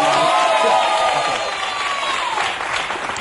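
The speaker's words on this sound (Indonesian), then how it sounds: "Tepuk tangan sekali lagi" A studio audience at an Indonesian television talk show breaks into steady, loud applause, a dense wash of clapping that holds throughout and eases slightly toward the end, with faint voices mixed in.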